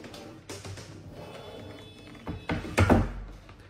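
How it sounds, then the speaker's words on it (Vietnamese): A solar street light's panel is flipped face down, landing with one dull, fairly close thunk, preceded by quieter handling knocks. "Tôi chỉ cần úp tấm pin xuống."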